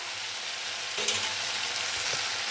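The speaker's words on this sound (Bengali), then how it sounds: "আমি প্রায় বারো থেকে ১৩ মিনিটের মতো মশলাটা কিন্তু খুব ভালোভাবে কষিয়ে নিলাম" Spice masala for a kabuli chickpea curry fries in a pan, giving a constant close sizzle with a brief stirring clink midway.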